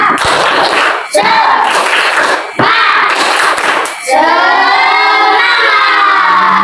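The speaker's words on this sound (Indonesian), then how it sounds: "tepuk semangat dulu biar lebih semangat" A class of children in an Indonesian school does a rhythmic spirit-clapping cheer, with bursts of clapping and shouting broken by brief pauses, ending in a sustained chorus of young voices.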